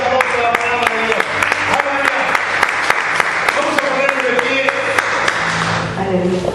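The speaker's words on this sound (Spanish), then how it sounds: "Dale un fuerte aplauso a la palabra de Dios." Church congregation claps along during a Spanish-language sermon, rhythmic hand claps over organ or keyboard tones, with a voice speaking over the clapping.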